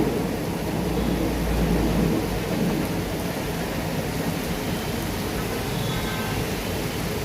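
Heavy monsoon rain pours steadily in Mumbai, a dense, unbroken wash of close rainfall with deep rumbles of thunder rolling underneath, no voices present.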